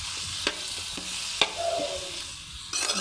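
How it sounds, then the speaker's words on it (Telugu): Tomatoes sizzling in a pan for drumstick curry while a spoon stirs them, with a steady frying hiss and a few sharp scraping clinks against the pan. "సరిగా ఈ విధంగా కలుపుకోవాలి"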